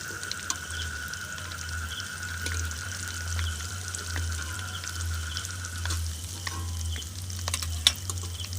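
Vegetarian potato chops sizzle steadily in hot oil, a close, even crackling fry with small clinks and a brief splashy scrape as a strainer lifts them out; no voices.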